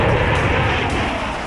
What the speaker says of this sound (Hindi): आपने आसमान में गरजते लड़ाकू विमानों की हुंकार सुनी